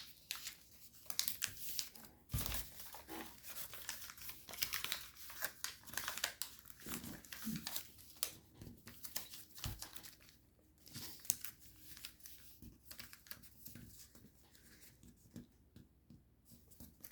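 Paper being folded by hand, with close, dry crinkling and creasing rustles that come in irregular bursts throughout, punctuated by a few sharper crisp snaps.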